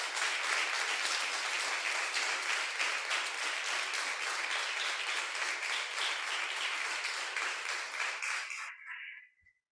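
Church congregation applauding together during a sermon on fear in the family, a dense, steady wash of many hands clapping for about nine seconds before cutting off abruptly.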